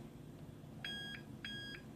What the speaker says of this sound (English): So if we just switch it on, you'll hear a beep, 2 beeps